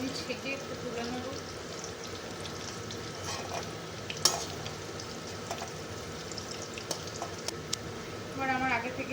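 Potatoes and cauliflower sizzle steadily in hot oil for a labra curry, a continuous close frying hiss with occasional clinks and stirring scrapes, fairly quiet throughout.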